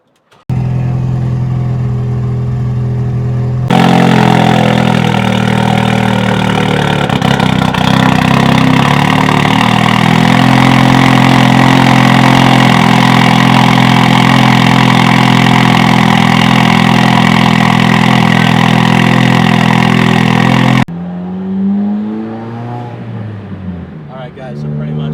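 A 2017 Ford Focus RS turbo engine, fitted with a big Precision NX2 turbo and running E40 fuel, idles loudly and roughly up close with a steady drone, while voices talk over it before it cuts off.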